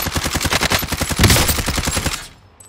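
Rapid automatic gunfire from Call of Duty Warzone, a long dense burst of closely spaced shots, loud and near, that swells midway and then cuts off into quiet.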